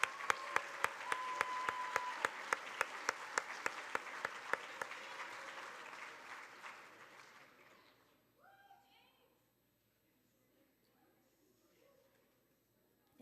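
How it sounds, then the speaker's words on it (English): An audience at a Board of Education student recognition ceremony claps for students. Sharp, close hand claps lead a crowd's applause that gradually fades, followed by quieter talking. "Round of applause for these great kids."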